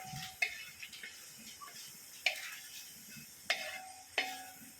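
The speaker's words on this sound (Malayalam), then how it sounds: "നല്ലോണം ഇളക്കണം കേട്ടോ നമ്മളിതിനെ" A spoon stirs adapradhaman in a pot after cashews, raisins and mashed banana go in, producing soft scraping with a few distinct clinks against the metal, quiet and close.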